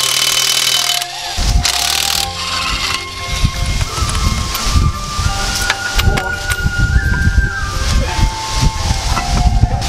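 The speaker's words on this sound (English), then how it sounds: "So take out the four lug nuts." Mechanical clicks and a ratcheting rattle come from lug nuts being loosened off a wheel of a 2010 Nissan Versa, busy and fairly close, over a steady background hiss and wind noise, with no voices.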